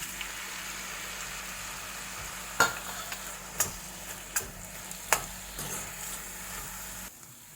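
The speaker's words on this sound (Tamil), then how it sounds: "இப்போ கட் பண்ணி வச்சிருக்கிற தக்காளியை போட்டு ஃப்ரை பண்ணலாம்" Chopped tomatoes frying with onions in a pan for South Indian tomato rice, with a soft continuous sizzle and several distinct scraping stirs and spoon knocks at irregular intervals, close up and without speech.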